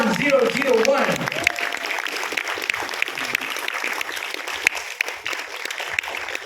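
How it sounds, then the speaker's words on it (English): An audience at a law school award ceremony for a national client consultation competition breaks into sustained applause, dense and close. It begins briefly under a voice and then continues alone, gradually thinning. "Give her another round of applause, everyone."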